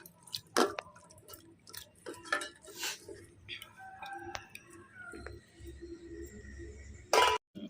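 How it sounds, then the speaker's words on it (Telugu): Water trickles and splashes over tamarind being washed in a metal vessel in a home kitchen, with scattered clinks of pots and utensils, soft drips and one louder clatter near the end. "ఈ చింతపండు కొంచెం నీళ్ళు పోసి కొంచెం కడిగి నానబెట్టుకుంటాను"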